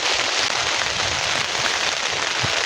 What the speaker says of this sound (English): I can't hear a thing because of this rain